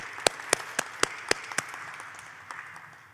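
A single person claps slowly and deliberately at a conference talk, about seven crisp, evenly spaced claps close by, followed by a few fainter scattered claps from others in the room.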